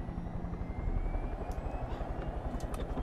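Helicopter in the video game Far Cry 5, its rotor thumping in a fast, steady chop with engine drone beneath, fairly close and continuous.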